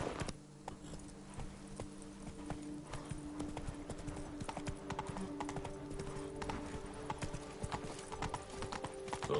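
Roach, the horse in The Witcher 3 video game, gallops with a steady, fast rhythm of hoofbeats that carries through the whole stretch over a dense game soundscape.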